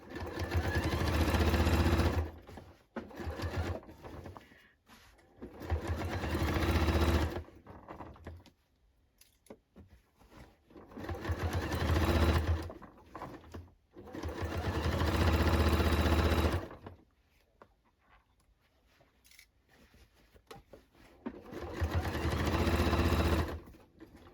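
A sewing machine stitches along the original manufacturing seam of a denim jacket, running in several loud, steady bursts of a few seconds each, separated by quiet pauses.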